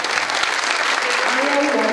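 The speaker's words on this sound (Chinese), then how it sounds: "给他一个掌声" An audience claps at a retirement ceremony for a teacher, a dense, steady burst of applause that fills the room, loud and close, with a voice speaking over it.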